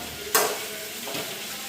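Spices tempering in a pan on a gas stove in a village kitchen, giving one sharp sizzling burst followed by a softer hiss and a faint second flare.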